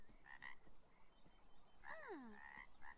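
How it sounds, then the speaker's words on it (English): A frog croaks in the video game Beyond Eyes, a few close, distinct calls, one with a sliding downward sweep, heard alone over a soft ambient bed. "There's a frog."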